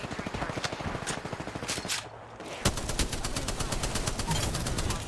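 Apex Legends gunfire comes in rapid automatic bursts with fast, evenly spaced shots, a short pause, then a louder sustained stream of fire, with mixed, overlapping weapon sounds.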